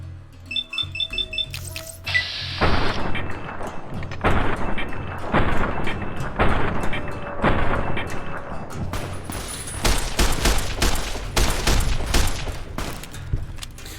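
Rapid video game gunfire rings out in a long, dense volley of loud, sharp shots with heavy booms, after a few brief clicks and mechanical clatter at the start.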